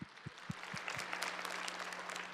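A church congregation breaks into applause, a few sharp claps at first and then a dense, steady clatter of many hands, fairly faint and heard without any talking.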